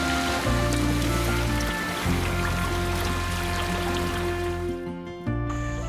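Rain falls on a wooden sailing dinghy during a cruise in Australia, a loud continuous wet hiss over a low droning hum that briefly drops out near the end.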